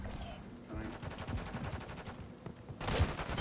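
Rapid automatic gunfire in a multiplayer shooter video game, a fast rattling burst running for a few seconds at moderate loudness with game background noise, ending in a louder shot.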